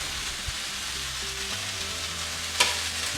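Shrimp fry in a pan over fairly high heat for pad thai, giving a steady, even sizzle with a few faint clicks of stirring.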